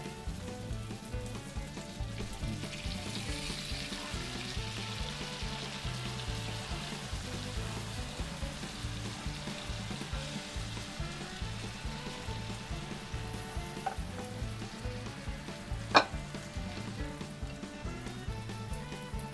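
Sauce added to sizzling bangus (milkfish) on a hot plate gives a steady, quiet, continuous sizzle, with one sharp click near the end and no talk.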